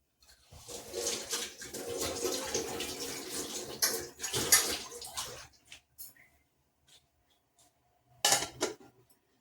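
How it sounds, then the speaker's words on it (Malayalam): Water pours and splashes in a metal cooking pot, followed by a few sharp clinks as a lid is set on it, then quiet. "ഇനി നമുക്കൊന്ന് മൂടി വെച്ച് വെള്ളവും തിളപ്പിച്ചെടുക്കണം"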